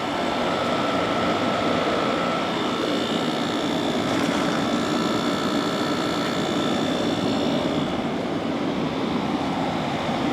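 A 2009 General Electric 12000 BTU air conditioner runs with a loud, steady, unbroken drone and whir heard close up, with no talking.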